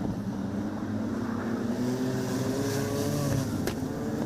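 Wingless sprint cars race around a dirt oval at Lismore Speedway, their engines a continuous distant roar that swells as the cars pass, with a sharp crack near the end.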